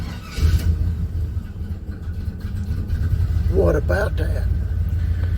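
A 1978 Chevy C10 pickup engine catches and settles into a steady, loud low rumble that continues to the end, with a short spoken comment near the middle.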